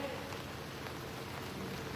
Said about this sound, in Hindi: यही रिमझिम बारिश की बूंदे